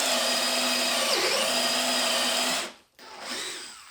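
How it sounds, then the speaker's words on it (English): A power drill bores a mortise into wood end grain, whining loudly and steadily with a brief dip in pitch, then cutting off and restarting for a short final burst. "because we're drilling into end grain, it's going to be more challenging"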